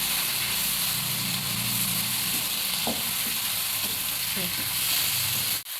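Beef tripe frying in a pan gives a loud, steady sizzle and hiss close by, with occasional scrapes and clinks from stirring and a soft voice faintly underneath.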